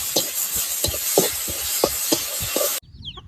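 Shallots and tomatoes sauté in a pan while a spoon stirs them, giving steady loud sizzling with regular scraping strokes about every third of a second, before it cuts off abruptly near the end.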